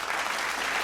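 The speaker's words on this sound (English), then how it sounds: "We applaud the team for all your hard work and dedication." Steady, dense applause from the audience at a faculty research awards ceremony, honouring the research team, with no voices.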